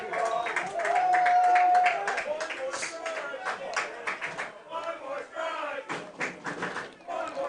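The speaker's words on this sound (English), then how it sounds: "One more strike is the latest chant." Crowd at a high school baseball game between San Angelo Lake View Chiefs and Big Spring Steers chanting in unison for one more strike, rhythmic massed voices with claps and shouts, moderately loud and continuous with a whistle-like tone early on.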